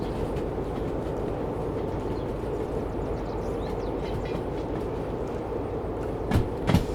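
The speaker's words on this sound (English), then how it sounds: "So I'm just putting the train brake on the rest of the cars now" Freight train cars rolling in the Derail Valley game as the train brake is applied, a steady loud rumble with rhythmic clatter and a couple of sharp metallic clanks near the end.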